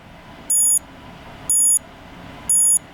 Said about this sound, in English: you want to hear the first alarm? You hold this button. This is a preview.